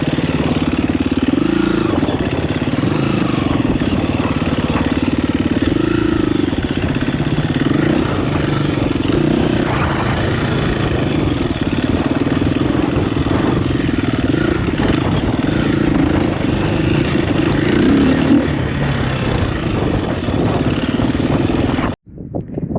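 A KTM EXC-F 350 dirt bike rides a green lane, its engine a loud, close, steady drone that holds for the whole stretch before cutting off abruptly at the end.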